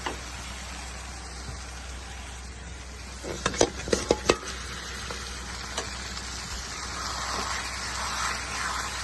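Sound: katla fish pieces frying and stirred in spice paste

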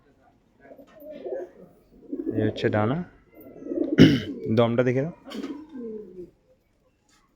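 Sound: pigeons cooing while being handled

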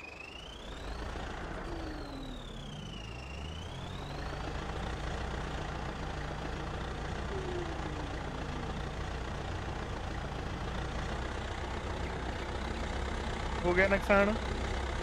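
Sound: tractor engine in a tractor pulling contest

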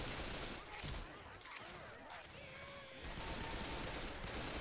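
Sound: rapid gunfire in the video game Left 4 Dead 2

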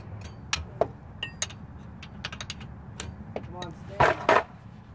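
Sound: unbolting car drive shaft bolts with a wrench

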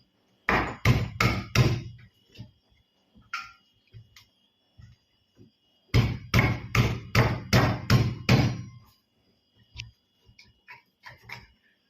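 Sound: crushing ivy gourds (kovakkai) lightly in a stone mortar

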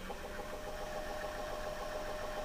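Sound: small motor running in electronic powder dispenser for reloading

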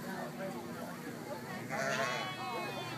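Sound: sheep bleating at a farm

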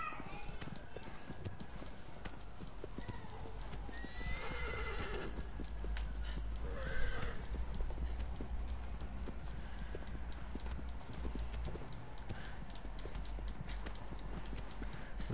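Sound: horse neighing and hooves clip-clopping

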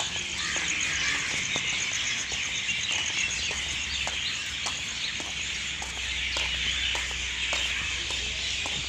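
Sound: birds calling in entrance tree

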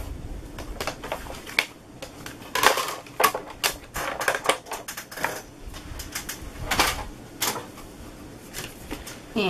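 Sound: card plates running through embossing machine

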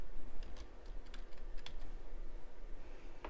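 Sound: typing a search keyword on a computer keyboard

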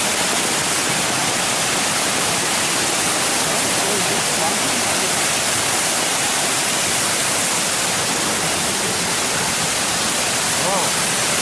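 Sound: natural waterfall at Namhwasa temple

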